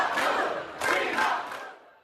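Crowd of graduating students booing Columbia University's acting president Claire Shipman during her Columbia College commencement speech: a loud, sustained wash of jeers and shouting with two swelling surges, fading out near the end.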